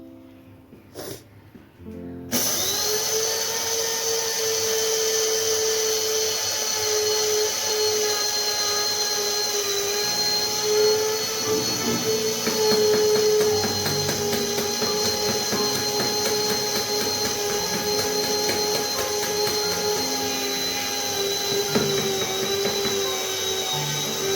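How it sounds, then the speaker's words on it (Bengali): An electric grinder whirring steadily as it reduces ingredients to powder, starting abruptly after a brief quiet moment and running loud and continuous for over twenty seconds with a high whine and slight rattling. "তাহলে গুঁড়িয়েই নিই একটুখানি"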